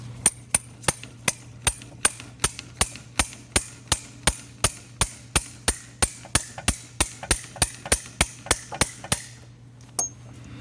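A hammer taps a CV axle seal into place, with about twenty-five sharp metallic strikes in a steady, quick rhythm, close and clear over a low hum, before a brief stop and one last light tap.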